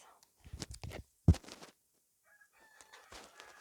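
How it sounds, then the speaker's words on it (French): A rooster crowing in the distance, faint and thin, heard after a few nearby knocks and handling sounds while paper crafts are being made indoors. "Ah, vous entendez le coq."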